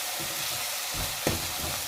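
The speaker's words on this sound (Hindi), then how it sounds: "टमाटरों को डाल के 2-3 मिनट के लिए भून के उसको थोड़ा दम देना है कि वो गल जाएं।" Tomatoes frying in a pan while cooking saag, a steady close sizzle with a brief clink or stir partway through, no voices.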